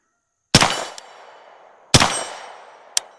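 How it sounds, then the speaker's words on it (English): An AKv9 fires two loud, sharp shots about a second and a half apart at a steel plate roughly 35 to 40 yards away, outdoors. Each blast is followed by a fainter, short metallic ping from the plate. "We're gonna go ahead and take a few shots at it."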